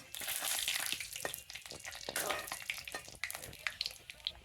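Asafoetida powder frying and browning in a hot pan gives a faint, busy crackling sizzle with scattered small pops and clicks, fairly close but low in level.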